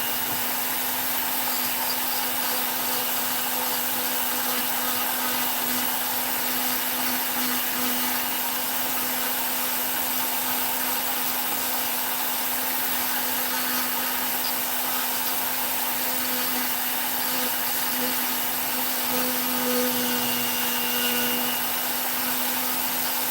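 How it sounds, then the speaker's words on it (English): Rotary power tool with a bowl burr carving wood, a continuous close whine with a steady tone running unbroken throughout, with no voices. "when I use the bowl burr to cut the cheeks and the sides in"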